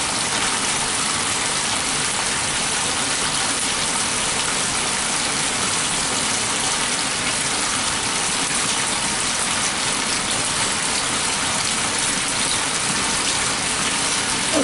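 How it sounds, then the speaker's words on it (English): Continuous rushing gush of water pouring into a Laundry Alternative Superpop washing machine, steady and close with no pauses or talk. "I'll start the wash while filling it."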